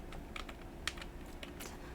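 Quick keystrokes clatter on a computer keyboard, a handful of soft taps in an irregular burst, close and faint in a quiet room.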